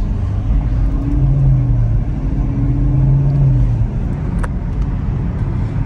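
A 2023 Chevrolet Camaro SS driven at night, its engine droning loudly and close, with the pitch rising and falling in smooth swells as it accelerates. A brief sharp click sounds near the end.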